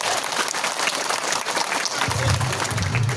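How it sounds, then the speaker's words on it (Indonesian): Audience applause at an Islamic mass sermon gathering marking Indonesian Independence Day, a steady wash of clapping that fills the whole stretch, with a low hum entering near the end. "Tepuk tangan buat beliau."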